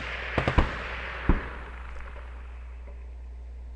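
A rifle fired in the survival game 60 Seconds: a quick cluster of three sharp shots close together, then a single shot a moment later, each fading into quiet with a final crack at the end.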